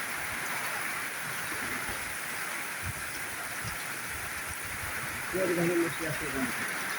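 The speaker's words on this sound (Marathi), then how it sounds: "बघा पाऊस पडत आहे चांगला, जोरदार सरी पावसाच्या" A steady wash of heavy rain falls, with a low rumble underneath. A voice speaks briefly near the end.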